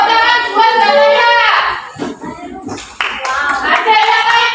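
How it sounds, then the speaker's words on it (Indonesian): A fifth-grade religious education class in Indonesia claps for a classmate, a burst of hand clapping mixed with children's voices, fading briefly before picking up again. "Tepuk tangan buat Balaya."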